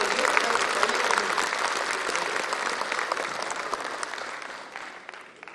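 Audience applause at a kavi sammelan poetry gathering in Jammu, a dense, steady wash of many hands clapping at once, moderately loud and sustained before tapering slightly at the end.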